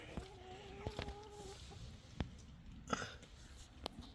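A few chickens cluck softly in short, scattered bursts, one drawn-out call early on, against a quiet outdoor background.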